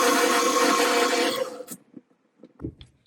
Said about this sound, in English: Now we're just going to mix the banana in just for a few seconds.